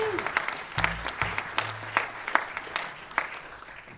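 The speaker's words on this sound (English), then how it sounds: "Give a round of applause." Audience applause at a big band jazz concert, a fairly sparse, uneven round of clapping with distinct individual claps, lasting a few seconds and fading toward the end.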